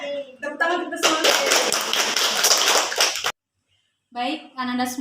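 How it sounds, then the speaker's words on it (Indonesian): A group claps in unison for about two seconds in a classroom or school event, loud and dense, with speech before and after the burst. "Tepuk tangan kita semuanya."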